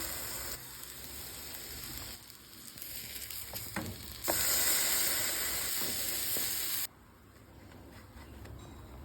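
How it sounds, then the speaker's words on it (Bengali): Bread sizzles steadily as it fries in butter in a pan, the hiss swelling louder for a few seconds before settling back down. "একটা ফ্রাইং প্যান বসিয়ে বাটার দিয়ে দিলাম"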